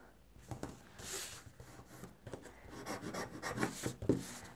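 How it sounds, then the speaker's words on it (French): Easy-tear adhesive tape pulled and pressed onto a cardboard box, giving repeated rubbing, rasping strips and crackles at close range, uneven in rhythm with several louder bursts near the end and no talking. "J'utilise de l'adhésif découpe facile."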